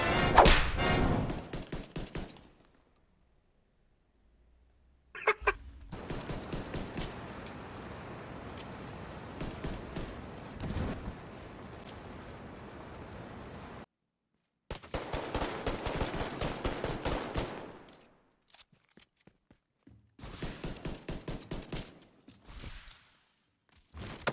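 Rapid pistol gunfire in The Division 2 crackles in dense bursts, with sharp repeated shots across several volleys broken by brief silences, loud and close with no talking.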